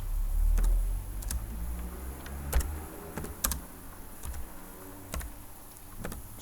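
Light, sparse keystrokes tap on a computer keyboard in short irregular bursts, soft and close under a steady low hum.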